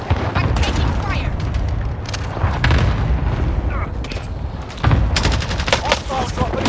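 Call of Duty Warzone combat: rapid bursts of gunfire and heavy booming explosions crowd the mix, loud and dense, with game voice callouts over the top.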